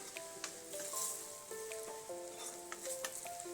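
Fish curry with turmeric stirred in a pan, giving a soft, steady sizzle with light scraping from the spoon, quiet and close, under gentle background music.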